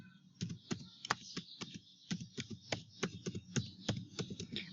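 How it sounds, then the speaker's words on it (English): Keys clatter on a computer keyboard as an email address is entered, a steady run of crisp, close taps with brief pauses between bursts. "So type in the email address over here."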